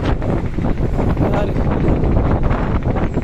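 Strong shore wind at sea, the start of a storm, roars and buffets against a fishing boat in a loud, continuous, gusty rush that swamps everything else.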